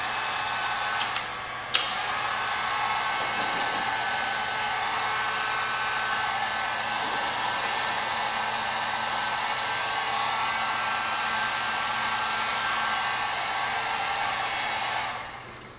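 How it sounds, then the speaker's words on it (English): A heat gun shrinking heat-shrink tubing blows with a steady, loud whirring roar that runs continuously for about fifteen seconds, then cuts off at the end. "you can take either a hot hair dryer or a heat gun like I have,"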